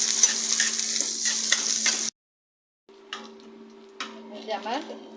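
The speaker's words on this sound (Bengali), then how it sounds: "এই যে আমার পেঁয়াজ আর রসুন লাল হয়ে আসছে" Chopped onion and garlic fry in oil, a steady close sizzle that cuts out briefly, then returns more quietly with scattered stirring clatter and scraping.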